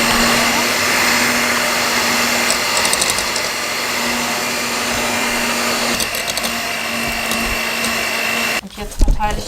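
An electric hand mixer whirs loudly and continuously through cake batter in a home kitchen, a steady motor drone that cuts off near the end with a brief clatter.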